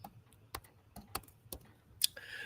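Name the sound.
typing on a computer keyboard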